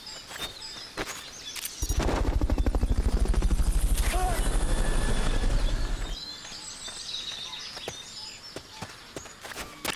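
Helicopter in the video game Metal Gear Solid: Peace Walker: a loud, pulsing rotor thump swells in, holds for about four seconds, then fades, with scattered sharp in-game effects before and after.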